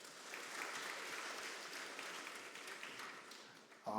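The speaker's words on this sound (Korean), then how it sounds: "우리 박수 한번 쳐주세요" Steady applause from a sizable church congregation during a Sunday service fills the whole stretch, dense and even, with a sharper burst of clapping right at the end.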